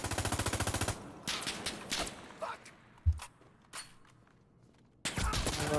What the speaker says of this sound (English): Oh, shots, shots.